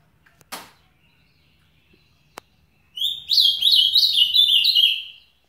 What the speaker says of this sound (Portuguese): Quero o canto alto.